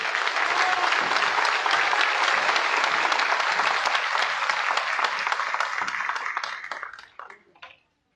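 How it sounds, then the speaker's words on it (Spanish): Sustained, dense applause from an audience at an energy sovereignty forum in Tulancingo, Hidalgo, welcoming a senator; steady loud clapping for about seven seconds, then tapering off to a few last claps. "Recibamos con un fuerte aplauso a nuestra senadora por Hidalgo, María Merced González."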